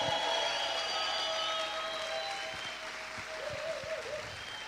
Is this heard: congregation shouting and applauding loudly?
yes